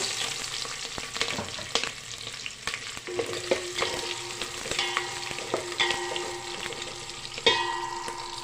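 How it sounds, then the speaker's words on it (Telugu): Bay leaf, onions and green chillies fry in a pan for chicken biryani, a steady sizzle with repeated scraping and clinking of a stirring spoon against the metal, close and alone. "అలానే బిర్యానీ ఆకు ఫ్రై చేయండి ఉల్లిపాయ పచ్చిమిరపకాయలు"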